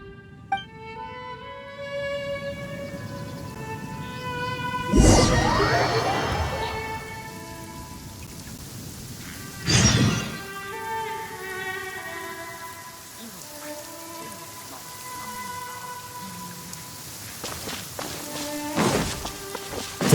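Heavy rain hisses steadily throughout, swelling into two loud, rushing bursts, with voice-like tones layered over the downpour.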